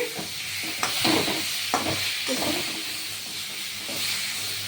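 Bottle gourd kofta balls fry in hot oil, crackling and hissing steadily up close with a few sharp pops and stirring knocks along the way.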